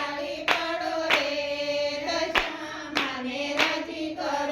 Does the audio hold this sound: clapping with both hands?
yes